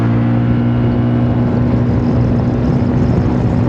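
A Zontes 368G motorcycle with a full remap and Malossi kit roars steadily and loudly throughout, with a sustained low hum and no clear gaps or speech.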